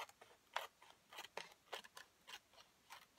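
Scissors snip through paper for a scrapbooking party card, a run of crisp, quiet cuts in a steady rhythm, close by with no talk.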